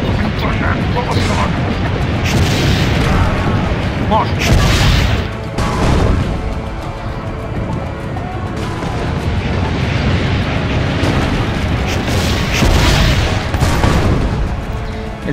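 Cannon fire and explosions during a battle in Assassin's Creed Brotherhood, with repeated heavy booms and rumbling blasts over continuous battle noise, while voices shout and talk throughout.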